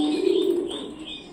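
Medinipur lotan pigeons cooing close by, a low steady coo with soft higher chirps over it, alone and fading slightly toward the end.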